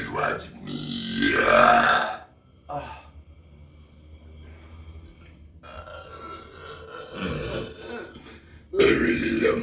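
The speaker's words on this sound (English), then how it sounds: "I really love my burps." Several loud, drawn-out burps from a person, with quieter breathy stretches in between and another burp starting at the end.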